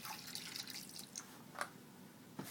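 Rice milk being poured in a little at a time while making molasses French toast: soft liquid drips and trickles, faint and sparse, over low room hiss.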